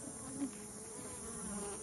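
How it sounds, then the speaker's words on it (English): A steady, close hum of many honeybees buzzing together in a hive, a continuous drone with slight swells and no other sounds. "Lots of bees."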